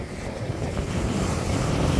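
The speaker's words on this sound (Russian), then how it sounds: "Сегодня море сильно бушует." Rough, stormy sea by a Thai provincial coast, heard as a steady broadband wash of surf and wind buffeting the microphone, loud and continuous with no talk.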